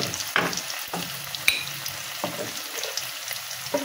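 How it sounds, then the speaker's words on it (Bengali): Potatoes frying in a pan with chili powder and turmeric while being stirred: a continuous close sizzle broken by several distinct scraping strokes, with no talking. "কত সুন্দর করে লাল লাল করে আলুগুলো ভেজে নিয়েছি"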